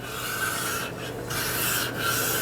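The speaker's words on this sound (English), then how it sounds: "I can just barely hear them touch at times." The rear parking brake shoes on a Ford F-150 lightly rub against the rotor, giving a soft repeated scraping swish with brief pauses, close up and with no talking.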